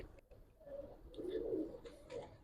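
Giribaz pigeons coo in a loft, a low soft burbling rising and falling in a couple of swells, fairly faint with light background noise and no talk.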